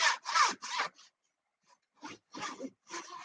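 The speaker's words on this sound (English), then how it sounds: "when I am cutting sheeting or whatever, you always use a saw to cross cut the grain" A hand saw cross-cuts thin wood sheeting in short, rasping strokes: a quick burst of three, a pause, then three more strokes, close and clear.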